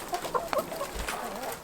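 Hens in a chicken coop cluck in several short, close calls scattered over faint background noise, with one sharper squawk at the end.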